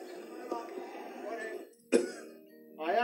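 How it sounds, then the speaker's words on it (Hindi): A person in a television advert coughing and clearing their throat in a few sharp bursts between spoken lines, close and fairly loud. "कब से खांसी है इनको?"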